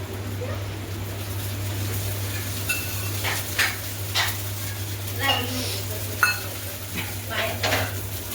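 Oil sizzles steadily in a pan while a dosa cooks at home. A low, continuous fry sits under scattered clinks of utensils against the pan, with voices talking nearby.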